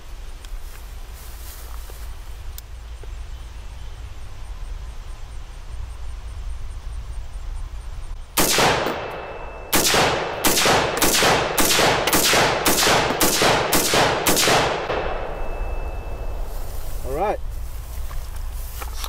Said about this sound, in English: Put a few rounds through it without the blast shield and go from there.